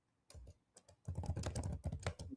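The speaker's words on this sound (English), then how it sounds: "Who's really typing?" Loud clattering computer-keyboard typing close to the microphone on an online call: a few isolated keystrokes, then a rapid, dense burst of clicking.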